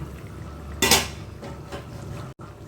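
A lid lifted off a pot of simmering quail gravy, one brief metallic clank near the start followed by quieter bubbling and faint kitchen clatter.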